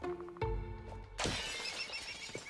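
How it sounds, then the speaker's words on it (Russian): A pane of glass suddenly shatters in a bright, crashing burst after a quieter moment, with debris rattling and fading afterward. "Блин, птичку прогнал, стекло разбил."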